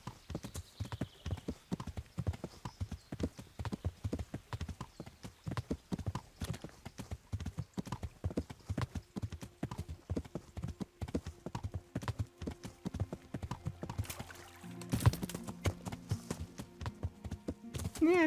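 A trusty war horse named Pebbles trots in the video game Kingdom Come Deliverance: a fast, steady run of close clip-clopping hoofbeats that lasts throughout, with a brief louder burst and a shift in the surroundings near the end.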